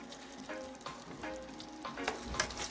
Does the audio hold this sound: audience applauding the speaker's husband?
no